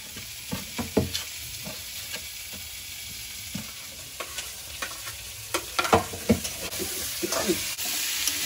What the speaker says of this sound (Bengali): সব ভালোভাবে ভাজা হয়েছে।